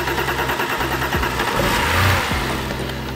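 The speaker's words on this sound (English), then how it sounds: "So we see it tries to start on our alternative fuel." The engine of a BMW 328i cranks over and over, trying to start on an alternative fuel, a loud rhythmic churning with a brief catch toward the middle before the cranking resumes.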